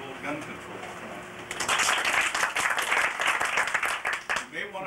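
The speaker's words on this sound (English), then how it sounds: "You may want to hold your applause." Audience applause breaks out at a political campaign speech, a dense wash of clapping that swells after a quiet start and carries on loudly throughout, with a few voices underneath.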